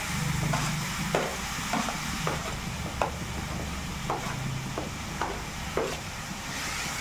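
Grated bottle gourd is stirred in ghee in a pan for halwa, a soft steady sizzle under regular spoon scrapes roughly every half second to second, close and moderately quiet, with no talk.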